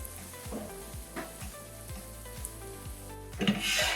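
Apple pieces softening in a hot pan for a vegan wild rice stuffing, giving a steady close sizzle with regular low ticking pulses, then a brief louder hiss near the end.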